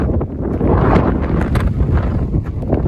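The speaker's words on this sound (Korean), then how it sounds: "엄청난 바람이 불고 있습니다." Strong wind roars and buffets the microphone on an open stretch of the Camino de Santiago pilgrimage route toward Navarrete, a loud, continuous low rumble with gusty swells throughout.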